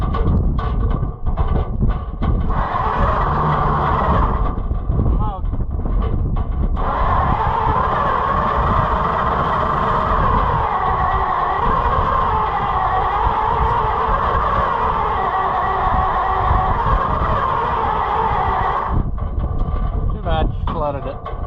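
Oliver 70 tractor engine cranking over and over while trying to start, a steady loud churning drone that runs for most of the stretch with a few sputters, talk heard at the start and end.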